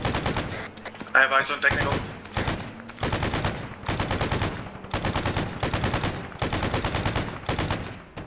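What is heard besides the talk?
gunfire from mounted guns in the video game Arma 3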